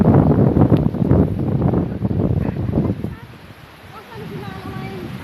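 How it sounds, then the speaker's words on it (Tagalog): Strong gusts on a farm roar and buffet the microphone in a loud rumbling rush that eases toward the end, with faint voices in the background. "lakas ng hangin"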